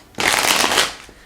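A tarot card deck being shuffled, one quick close riffle lasting under a second, crisp and loud against near silence.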